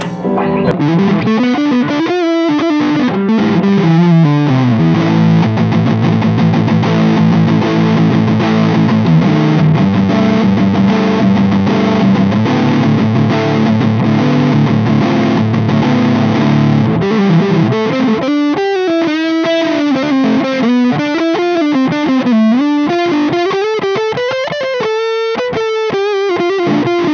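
Gibson Les Paul Tribute electric guitar played loud and heavily distorted through the bridge pickup, sustained chords giving way to a busy run of fast single notes, with no voice over it.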